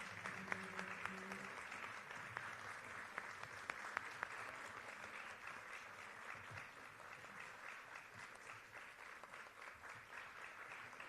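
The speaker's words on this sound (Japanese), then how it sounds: "どうぞ拍手でお送りください。" Applause sends off three speakers at the end of a figure skating pair's retirement press conference: sustained, even clapping from a large room, heard faintly and at a distance, with no speech over it.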